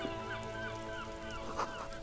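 Seagulls cry in a Disco Elysium seaside scene by the ocean. Several thin, rising calls repeat over a steady tonal ambient backdrop and sit at a moderate distance, with no talk.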